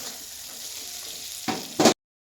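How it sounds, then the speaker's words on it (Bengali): Eggs, potatoes and spices sizzle and crackle as they are stir-fried in a pan for an egg curry, a steady close frying hiss with two brief louder bursts of stirring near the end. "ভালোভাবে কষাচ্ছি ডিমটাকে, আলুটাকে, মশলাটাকে সুন্দরভাবে"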